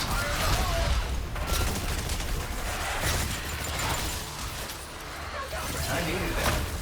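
Sustained gunfire and explosive bursts from grenades crackle loudly and continuously in a chaotic Exoprimal battle, with no pause in the dense noise.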